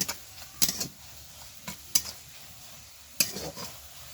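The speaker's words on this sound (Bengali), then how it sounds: "এবার দিয়ে দেবো একটু হলুদ সুন্দর করে আবারও একটু ভেজে নিব" Onion with salt and turmeric frying in mustard oil, a quiet low sizzle broken by a few sharp scrapes and clinks of a stirring spoon against the pan.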